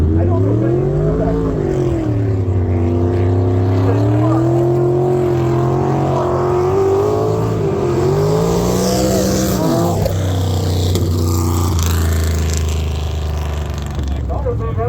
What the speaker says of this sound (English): Shane Suika from Princess Motorsports leading Central Sweden in that crazy V8 horsepower monster of a BMW